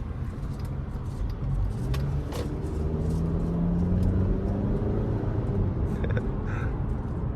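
A 2012 Hyundai Sonata Limited with a 4-cylinder engine drives along, heard from the cabin as a steady low engine hum and road rumble, with a few faint clicks and no talk.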